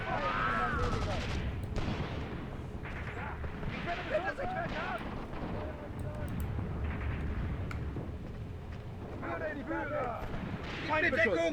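Gunfire and artillery from the Eastern Front combat game Graviteam Tactics: Mius Front, a dense rumble of distant shots and booms over a continuous battle din, with voices calling out through much of it.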